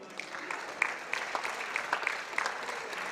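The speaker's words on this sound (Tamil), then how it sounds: "அந்த அம்மாவுக்கு ஜோரம் கைத்தட்டு கொடுங்க" An audience at a Malaysian Hindu Thirumurai recital event claps for a woman, a moderate spread of hands at middle distance with a few sharper individual claps standing out.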